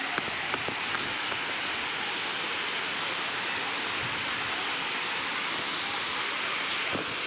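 The Gandahati waterfall, near a hot spring, sprays water in a steady broadband roar of falling, hissing water that stays even throughout with no voices over it.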